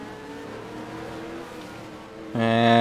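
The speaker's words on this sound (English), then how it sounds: "As cars make their way into the final turn onto the front stretch once again." Race cars in a racing video game, run on a Russian Grand Prix circuit, cornering with a steady layered engine drone that jumps suddenly to a loud, close revving note near the end, while a commentator talks.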